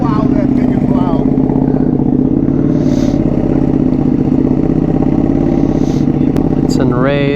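Ducati Panigale V4 R motorcycle engine running loud and steady for the whole stretch, a constant idle-to-rev roar with rattly clatter, while people talk over it.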